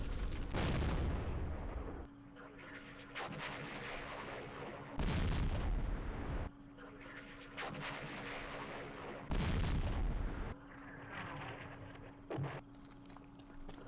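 Rocket and artillery hits in the Vietnam war game Campaign Series Vietnam, set at Dien Bien Phu: four heavy, booming impacts spaced a few seconds apart, each followed by a rumbling decay over a steady low background hum.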